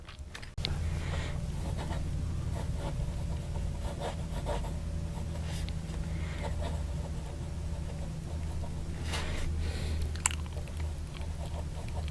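A vintage 1920s Sheaffer Radite fountain pen with a wet, very smooth nib scratches steadily across paper, a close, soft rubbing texture over a low steady hum, with no talking.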